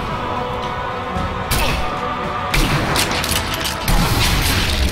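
Gunfire in Sniper Elite V2 as three heavy shot bursts land in quick succession, each a loud broadband blast over a continuous layer of in-game battle noise.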